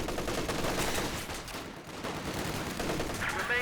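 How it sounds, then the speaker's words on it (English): Machine gun laying down sustained suppressing fire in a Company of Heroes 2 battle, a dense continuous rattle of gunfire with overlapping shots and explosions throughout. "Machine gun out the back, suppressing."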